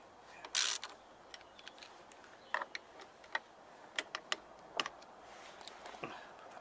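A socket ratchet works handlebar clamp bolts on a Harley-Davidson XG 750 Street, giving quiet, irregular clicks and ticks spread across the clip, with one louder metallic clack near the start.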